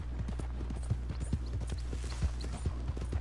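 A horse in Red Dead Redemption 2 walks at a steady clip-clop, its hooves thudding in an even rhythm over a low background hum.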